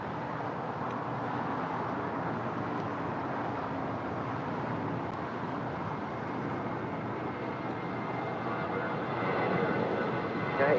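An airliner in Boston Red Sox special livery takes off from the south side at LAX, its jet engines a steady, broad roar that swells slightly louder toward the end, with no talking.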